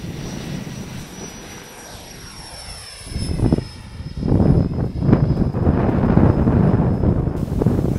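An electric ducted-fan RC F-16 jet running on 42.4-volt batteries flies past with a rising whine and rushing air roar, growing louder and closer in the second half, with some wind buffeting.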